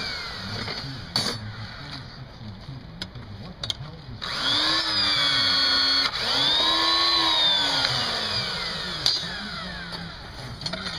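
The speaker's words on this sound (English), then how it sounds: "So I'll show you how we do that now with our little rebar bender." A small motorized rebar bender bends hooks into rebar, giving a loud, steady mechanical whine and grind that runs for several seconds and rises and falls in pitch, over a background engine hum.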